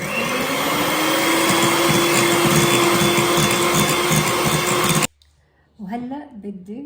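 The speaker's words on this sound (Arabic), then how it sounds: "هلأ بدي أخلط البيض والسكر" Electric mixer whipping eggs and sugar for madeleine cake batter: a loud, steady whirring drone for about five seconds that cuts off abruptly, followed by someone speaking.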